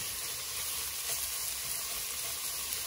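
Half a chopped onion stirred into hot oil in a pan with cinnamon, a bay leaf and garlic, giving a steady, close sizzle and frying hiss with faint stirring scrapes throughout.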